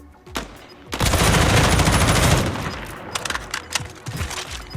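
Rapid automatic gunfire erupts in a Call of Duty match during a pro league bomb round, a dense loud burst lasting over a second followed by scattered single shots and clatter.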